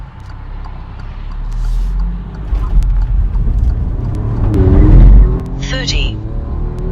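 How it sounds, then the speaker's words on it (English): Alfa Romeo Giulia Quadrifoglio with a JB4 tune accelerating hard from a launch, a deep rising engine roar and rumble building close inside the cabin, with a brief high squeal as tires spin near the end. "Yeah, the tire spin is crazy."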